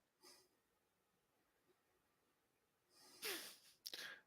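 A single sharp sneeze bursts out near the end, close and fairly loud, followed by a brief second burst, after a faint breathy sound earlier and quiet in between.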